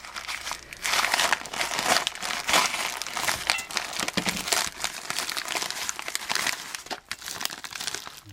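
Plastic packaging for a Chinese 1000 W ZVS induction heater being cut with scissors and unwrapped, giving steady close crinkling and crackling with short snips and tearing bursts throughout, no talk.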